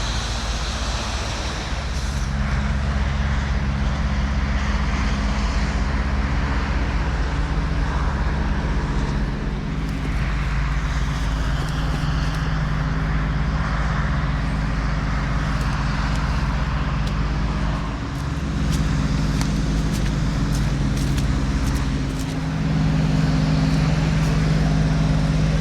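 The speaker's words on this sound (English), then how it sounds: "Highway." Steady roar of highway traffic at night near a gas station, a continuous broadband rumble with passing vehicles swelling and fading at a distance, no talking.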